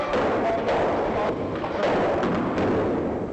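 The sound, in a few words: rocks falling on film set as special effect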